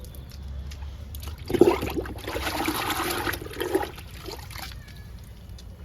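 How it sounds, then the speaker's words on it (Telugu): Liquid fertilizer pours from a container onto potted tomato plants, a soft splashing trickle that swells for a few seconds and then thins, fairly quiet against faint background noise. "ఇప్పుడు లిక్విడ్ ఇస్తున్నా"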